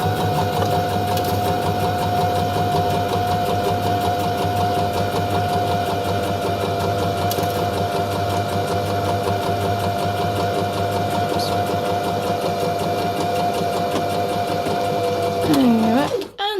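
A sewing machine stitches a seam on a fabric pumpkin, with a short back stitch to secure it; a loud, steady, close mechanical hum runs throughout before stopping at the end.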